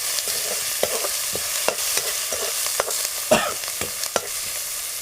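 Onion sautés in a pan with garlic paste, a constant crackling sizzle broken by frequent clicks and scrapes of a spatula stirring close by.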